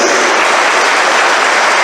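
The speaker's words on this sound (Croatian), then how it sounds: "Pozdravite ga, njim veliki aplauz" Dense, continuous applause from a crowd fills a short moment at an SNSD political party rally in Rogatica, loud and unbroken.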